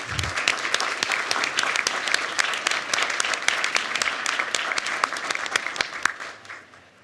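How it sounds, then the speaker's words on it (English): An audience at a city council work session applauds first responders during their special week, a steady crowd of clapping hands near and loud, sustained for about six seconds before fading out. "give them a round of applause during their special week"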